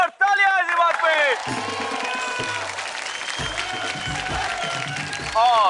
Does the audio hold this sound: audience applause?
yes